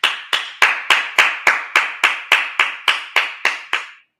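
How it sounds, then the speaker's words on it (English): Thirteen sharp, evenly spaced hand claps ring out one after another at a steady beat at a Sabbath church service, loud and close, then stop. "Clap it up"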